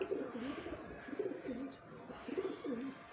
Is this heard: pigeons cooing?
yes